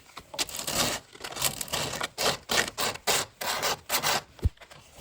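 Oak coffee table surface hand-sanded with 80 grit sandpaper: close, rough scratchy strokes in a quick back-and-forth rhythm, about a dozen rasping passes with short gaps between them.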